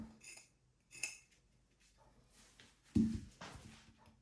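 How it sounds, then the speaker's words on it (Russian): A knife cuts fish into pieces of about 3 to 4 centimetres, producing a few sharp knocks and scrapes against the board, separated by quiet gaps. "Далее режем примерно на куски по 3-4 сантиметра."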